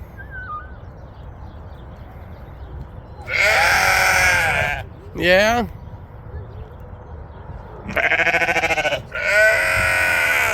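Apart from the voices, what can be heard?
sheep and lambs bleating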